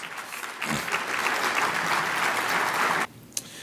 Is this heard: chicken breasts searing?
no